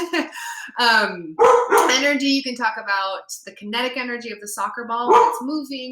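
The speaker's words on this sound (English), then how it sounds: "you can hear my dog barking." A pet dog barks in yips and bow-wows at home, close and loud, mixed in with a person talking steadily over it.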